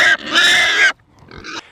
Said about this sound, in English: All right, you see some hungry piggies.